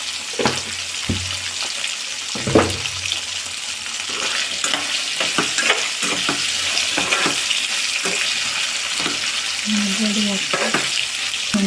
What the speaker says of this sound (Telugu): ఇవి వేగుతున్నాయి నూనెలో